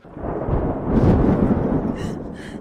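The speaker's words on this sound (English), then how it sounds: "That was thunder." Thunder rolls through a dramatic wedding-day scene as a loud, sustained rumble that swells near the middle and lingers for a couple of seconds.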